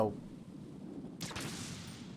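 Claymore mines detonating after being shot in the video game Metal Gear Solid 2, heard as a sudden broadband burst of explosion noise that breaks in partway through and rumbles on over steady low game ambience.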